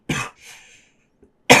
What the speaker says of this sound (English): I'm going to cough 1 second.